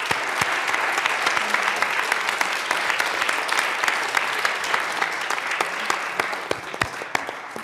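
Applause in the Colorado House chamber during a 2020 extraordinary legislative session, a sustained round of many hands clapping with sharp individual claps standing out, steady throughout and fairly close.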